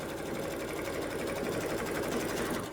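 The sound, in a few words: embroidery machine stitching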